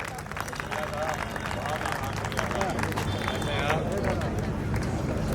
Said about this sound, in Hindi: जोरदार तालियां नहीं होनी चाहिए भाई लोगों।